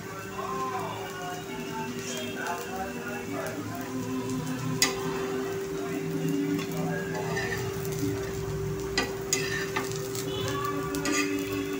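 Kothimbir vadi frying on a hot tawa give off a steady, close sizzle with faint crackles and small ticks throughout, with a constant low hum running underneath.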